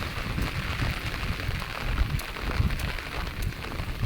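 Heavy pouring rain drums steadily and loudly on surfaces close by, a dense unbroken wash with no voices over it.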